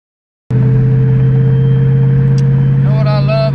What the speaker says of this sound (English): being able to just listen to the car